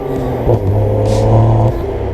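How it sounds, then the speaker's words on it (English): A 2018 BMW M240i's 3-liter twin-scroll turbocharged inline-six, rated at 343 horsepower, drones loudly and steadily up close, its pitch rising briefly partway through. "The 3-liter twin-scroll turbocharged inline 6, 343 horsepower, 369 pound-feet of torque engine is fantastic."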